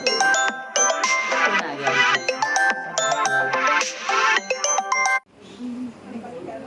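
A mobile phone ringtone plays loudly as a repeating melodic tune for about five seconds, then cuts off abruptly to a quiet background with faint voice.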